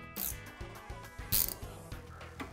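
Ratchet wrench tightening a 13 mm ball joint bolt on a 2020 Italkart Rapido V1 KF/KZ go-kart, a quick string of close, soft clicking strokes with brief metallic accents and no voices.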